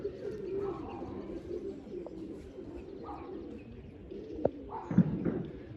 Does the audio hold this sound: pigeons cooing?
yes